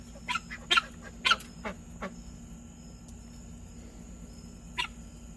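Guinea fowl at a fair give a few sharp, harsh calls in short bursts, fairly close, with a last call near the end over a steady low hum of background noise.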